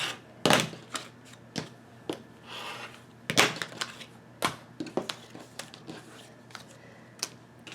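Quilt fabric being cut along a ruler for a scrappy Christmas tree quilt top, a series of crisp irregular clicks and scraping crunches from the cutter, close by and sporadic, with no talking.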